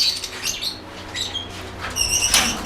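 Lovebirds in a breeding aviary, including albino red-eye, pale fallow and Dutch blue birds, giving scattered high chirps and short calls at close to middle distance, with a busier burst of chirping near the end.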